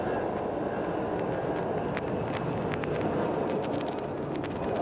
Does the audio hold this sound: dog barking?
no